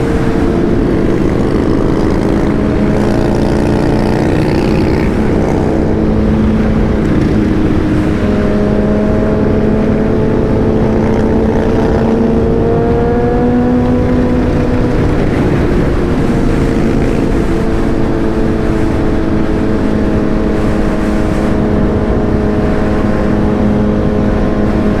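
A group of motorcycles rides together, their engines holding a loud, steady drone for the whole stretch, with pitch rising and falling gently as they cruise, close and continuous.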